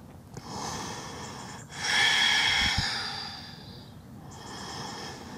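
Slow, audible yoga breaths through the throat in Ujjayi style during a lizard-pose hip stretch, a soft airy inhale followed by a longer, louder rushing exhale, close and steady with no talking.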